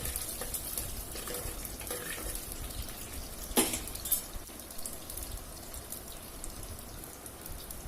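Garlic sautéing in oil in a pan for Tamil-style shark (paal sura) curry, giving a steady, fairly quiet crackle and hiss with a few sharper pops, with no voice over it.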